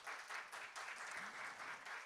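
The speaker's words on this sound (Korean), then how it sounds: "다시 한번 TNK 월드 여러분께 큰 박수 부탁드릴게요." A concert audience claps in a rhythmic, pulsing pattern, the applause rising and dipping in regular beats, heard quietly at a distance.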